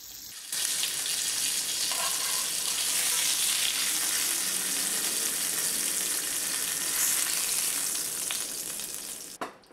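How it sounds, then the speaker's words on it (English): Steady, loud sizzling of fish frying in oil in a pan, a continuous crackling hiss lasting several seconds with no talking. "Couple more minutes of frying, and then I'm going to remove the fish and put it aside."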